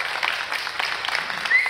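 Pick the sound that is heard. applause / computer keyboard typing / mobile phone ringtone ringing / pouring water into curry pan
applause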